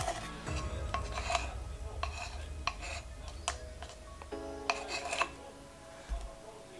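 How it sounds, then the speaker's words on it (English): Dry baking ingredients, including baking powder, being sifted: a repeated scraping, rasping rattle with small clinks, in irregular strokes over several seconds with a faint background hum. "lahat ng dry ingredients isi-sift muna natin"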